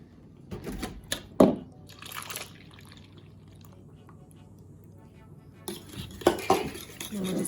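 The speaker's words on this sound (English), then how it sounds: "And we're just gonna mix everything together." Utensil clinking and scraping in a bowl while French toast batter of eggs and 1% milk is mixed together, in irregular bursts with a quieter middle stretch and liquid sloshing.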